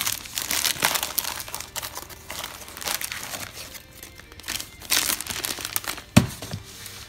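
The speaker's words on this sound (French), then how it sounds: "On va essayer de déballer ça sans tout fracasser." Plastic packaging crinkling and tearing as a LEGO The Movie 2 set 70840 instruction booklet is unwrapped, close, irregular rustles and crackles with a sharp snap near the end, no speech.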